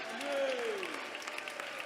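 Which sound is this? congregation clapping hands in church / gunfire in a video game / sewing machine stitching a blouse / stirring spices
congregation clapping hands in church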